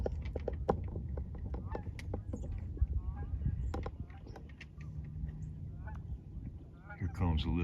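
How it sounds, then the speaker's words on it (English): Geese fly over in a small formation, their honks sounding in an irregular string, fairly close and clear outdoors. Other scattered knocks and background noise run beneath, with a louder flurry of calls at the end. "Here comes a little group of them. I love how they fly in formation. Geese mate for life too"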